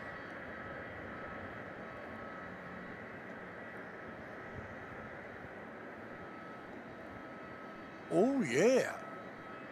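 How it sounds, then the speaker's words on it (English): A Qatar Airways aircraft in 25th anniversary retro livery taxis at Melbourne Airport at night, heard as a steady, distant engine drone throughout, with a brief spoken exclamation near the end. "we get Qatar Retro, and they are on taxi heading out"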